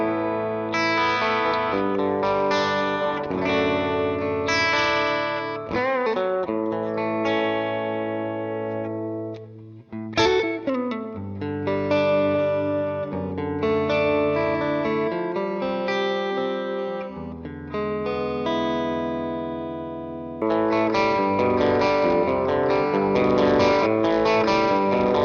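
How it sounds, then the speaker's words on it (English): A Telecaster runs through a Dr. Z MAZ 18 amp with overdrive engaged and the guitar volume rolled back, giving lightly broken-up chords and riffs that ring out with a brief pause midway, played alone. "Just keep the overdrive on, roll the volume back, and it sounds like this."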